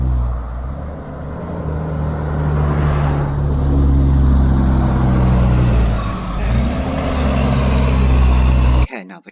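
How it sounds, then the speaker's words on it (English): A lorry's deep engine rumbles continuously nearby, with a brief hiss of air brakes partway through before it cuts off abruptly. "Let's listen to the lorry."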